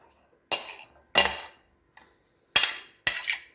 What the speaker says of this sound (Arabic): هلا بدنا نفضي الخضرة كلها على الجاط